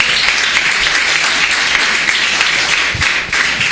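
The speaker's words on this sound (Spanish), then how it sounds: "Un fuerte aplauso al que vive." A church congregation applauding steadily and loudly throughout, dense clapping with no pauses and no voices standing out.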